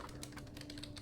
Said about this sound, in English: Boo is typing